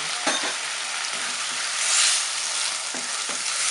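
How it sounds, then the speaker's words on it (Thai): Pork stir-frying with bell peppers, garlic and pepper in a pan, a loud continuous sizzle broken by a few scraping strokes of the spatula, close and with no voices. "แล้วก็ผัดให้สุกเข้ากันนะคะ"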